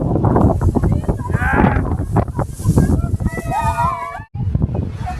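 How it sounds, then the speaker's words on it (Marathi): Loud gusting wind from a heavy rainstorm in Bhiwandi buffeting the microphone, with people talking and shouting over it and a brief cut near the end. "खूपच भयानक वारा सुटलेला आहे"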